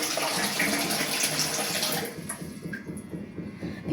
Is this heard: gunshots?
no